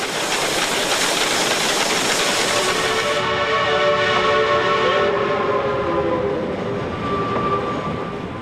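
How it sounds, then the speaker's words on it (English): A Shay steam locomotive works nearby with a loud, continuous mechanical roar and rumble from its pounding pistons, overlaid partway through by a steady whining tone. "great pistons pound to the beat of hundreds of pounds of steam pressure"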